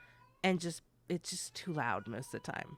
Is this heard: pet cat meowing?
yes